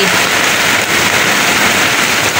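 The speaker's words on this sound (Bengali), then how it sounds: "কেমন বৃষ্টি পড়ছে দেখো।" Heavy monsoon downpour at the end of the rainy season, a steady, dense wash of rain hammering surfaces nearby, continuous and loud with no talk over it.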